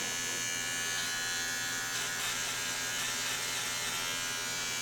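Electric hair clippers run steadily while cutting hair at the back of a person's head during a self-haircut, a continuous close buzz with no talking.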